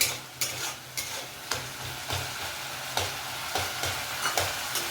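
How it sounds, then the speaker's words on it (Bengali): Oil sizzles in a pan while banana flower curry with lentil dumplings (bori) is stirred, with a spoon scraping at a steady rhythm about twice a second, close and clear with no talking. "দেখছেন তেল ভাজছে"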